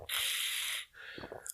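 Water is drunk from a loud water bottle, with a sustained hissing rush of air and liquid close up, followed by a short pause and a few small gulping, clicking sounds.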